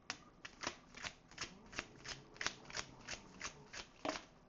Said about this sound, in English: We gotta shuffle one more time.